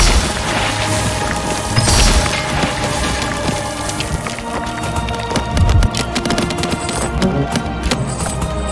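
Archidon archers loose volley after volley in Stick War Legacy, a steady dense patter of arrow hits and clicks amid constant battle noise with occasional dull thuds.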